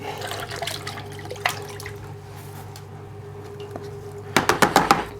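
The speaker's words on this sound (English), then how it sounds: "Take the lid of the cup. Just going to rinse that out as well." Water running and splashing while the paint cup of a Graco Ultra handheld sprayer is rinsed out in a small workshop, a steady trickle followed by a quick series of loud sloshing bursts near the end.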